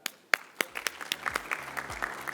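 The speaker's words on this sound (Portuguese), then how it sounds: "Palmas." Scattered claps from a small audience at a solar energy conference, a few sharp separate hand claps building into brief light applause.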